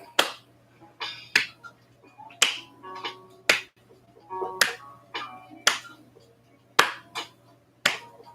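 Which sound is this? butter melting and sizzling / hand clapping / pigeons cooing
hand clapping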